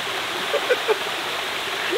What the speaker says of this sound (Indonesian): Ini ada sungai mengalir kayak gini.